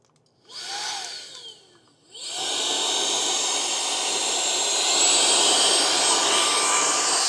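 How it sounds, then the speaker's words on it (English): A Kermoky cordless stick vacuum used as a handheld vac starts with a short whirring burst that spins down, then revs back up into a loud, steady, high-pitched suction whine held close throughout. "what I'm going to do is I'm going to use it like a handheld vac"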